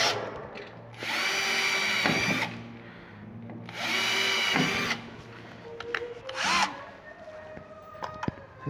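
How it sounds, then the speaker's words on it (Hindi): A power drill boring screw holes for a door handle during a door installation, heard in two sustained whining bursts of about a second each, followed by lighter tool clatter and handling knocks. "चारों तरफ मैंने ड्रिल कर लिया है"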